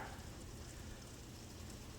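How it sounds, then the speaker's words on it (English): Freezing rain falls outside in winter as a steady, even hiss and patter, fairly faint and continuous throughout, with no voices over it. "You guys can maybe hear that freezing rain or whatever we're getting here because winter time."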